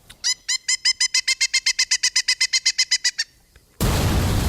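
Pileated woodpecker giving a loud, rapid series of about twenty evenly spaced, ringing call notes over three seconds, close and clear, followed abruptly by a burst of broadband noise.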